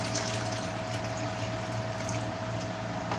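Aloe vera and water mixture for making beef tallow soap, poured in a steady, close, continuous liquid stream with a faint constant hum underneath.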